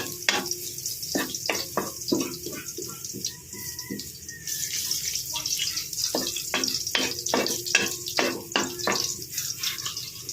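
Garlic frying in hot oil while being sautéed for a tilapia dish, a steady close sizzle broken by frequent sharp clinks and scrapes of a utensil stirring in the pan.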